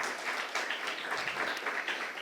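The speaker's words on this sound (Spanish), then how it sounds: "Denle un fuerte aplauso al Señor" Church congregation applauding at a Spanish-language service, a steady wash of many hands clapping at moderate distance, filling the room evenly without a clear beat.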